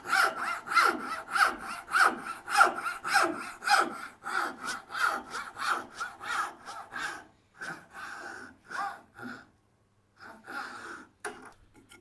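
A hand saw cuts wood for box joints, its strokes a quick, steady back-and-forth rasp with close, loud pulses. The strokes slow and thin toward the end, ending in a brief pause and a few final passes.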